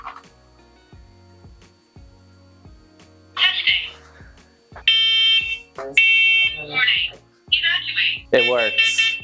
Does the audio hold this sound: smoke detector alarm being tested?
yes